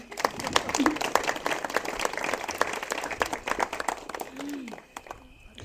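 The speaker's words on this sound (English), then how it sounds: "A big round of applause to the three girls, Shivani, Varuna, and Apra, for this program." A small audience at a spiritual satsang gathering claps for a program by three girls, sparse individual claps ringing out at an uneven pace, with brief voices rising through it before the clapping thins out.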